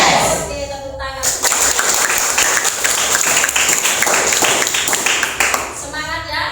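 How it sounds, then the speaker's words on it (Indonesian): Students at MTS Rodatul Ulum, an Islamic junior high school, clap together during a class session, producing a dense burst of applause of roughly four seconds, with voices talking before and after it. "Oke, tepuk tangan."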